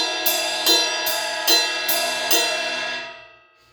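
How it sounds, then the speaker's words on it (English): Ride cymbal struck in an alternating pattern between the outer bow and the bell, six bright pings at an even pace, each ringing into the next, then a fading wash. "we have an alternating pattern going from the outer part of the ride to the bell of the ride"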